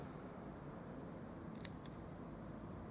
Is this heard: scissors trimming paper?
yes